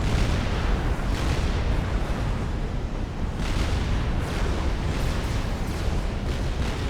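A Fatboy experimental unit in Supreme Commander Forged Alliance opens fire amid a dense, continuous roar of artillery booms and explosions, loud and unbroken throughout.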